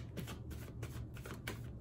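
Playing cards being shuffled by hand during a tarot-style reading, a steady run of papery riffling and flicking bursts, close and alone with no talk.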